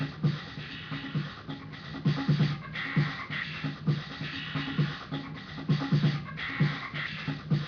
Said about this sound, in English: This is just some random, like, electric house beat.